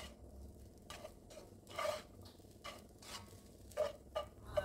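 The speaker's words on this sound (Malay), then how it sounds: "Teruslah dikacau-kacau sehingga sebati." Fried rice with egg is stirred in a pan, a spatula scraping and tapping in irregular strokes over a soft, steady sizzle, heard close and faint with no talk.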